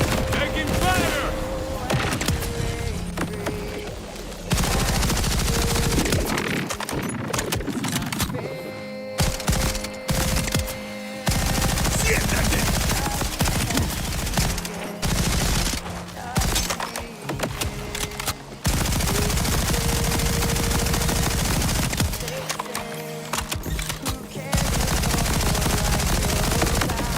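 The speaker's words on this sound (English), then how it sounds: "Taking fire!" Sustained bursts of automatic gunfire from the Borderlands 4 video game, loud and nearly continuous over the whole stretch, with brief lulls between volleys.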